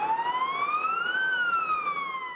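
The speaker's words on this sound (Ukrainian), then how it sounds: "Пожежна та швидка їздили містом з проблисковими маячками та ввімкненими сиренами." A fire engine or ambulance siren wails during a city drive with flashing lights, one long tone sweeping up and then slowly back down, loud and steady over faint road noise.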